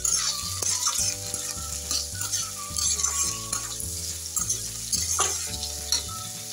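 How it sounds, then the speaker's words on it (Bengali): Chopped green chillies and tomatoes fry with mutton liver in a pan, a steady loud sizzle broken by repeated scrapes and clinks of a stirring spoon against the metal. "এবার কাঁচা লঙ্কাগুলো আমি দিয়ে দিলাম কুচো করে, আর টমেটোগুলো ছেড়ে দিলাম, দিয়ে ভালো করে নাড়াচাড়া করবো"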